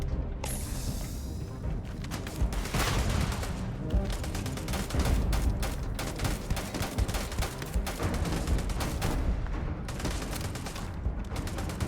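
Legendary Maelstrom gun from Starfield firing in a dense, continuous barrage of game gunfire with mechanical clatter, loud and close throughout.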